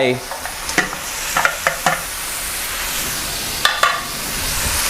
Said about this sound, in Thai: ผัดคลุกเคล้าให้เข้ากัน แล้วก็ใส่กุ้งลงไป